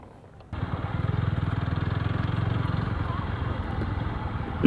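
A motorcycle engine rumbles steadily while riding around Diabari in Dhaka, starting abruptly after a short quiet moment and running with a pulsing, moderately close drone before a brief louder bump at the end.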